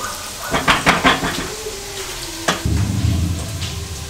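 Carrots, broccoli and beans fry in a pan with a steady close sizzle, broken by a few loud stirring scrapes and clatters early on and a sharp knock midway, after which the frying grows fuller.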